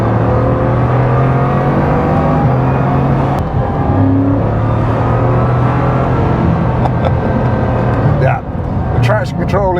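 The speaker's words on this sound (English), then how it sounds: "Let's do a quick standing start, because why not?" A 2021 Bugatti Chiron Pur Sport, a 1500hp hypercar, launches from a standing start on a public road, its engine droning loud and close as it climbs through rising tones with gear changes and a brief shift dip near the end.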